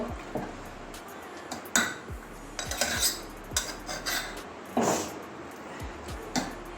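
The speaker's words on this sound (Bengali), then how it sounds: "বেশি করে একটু জল দিলাম এবারে নাড়িয়ে নেব একটু মাংস আর আলু সব মিশিয়ে নেবো" Mutton and potatoes with water in a pressure cooker, stirred by a metal spoon that clinks and scrapes against the pot in irregular bursts, close and fairly quiet.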